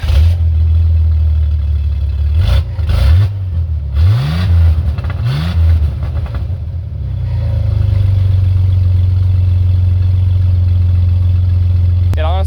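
A 1988 Chevy S10 5-speed with a leaky exhaust revs in several sharp bursts, then settles into a loud, steady rumbling idle, heard up close.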